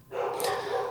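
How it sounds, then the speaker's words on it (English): A pet dog in a home gives a single short bark, close and fairly loud, heard on its own without any talk. "Whoop, that's my dog."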